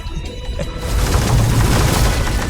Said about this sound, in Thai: โอ้พระเจ้าเจ้าชายระเบิดไปแล้ว